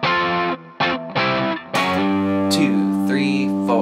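Distorted electric guitar playing a riff: a few short chopped chords, then a long ringing sustained chord with a sliding bend near the end, loud and close.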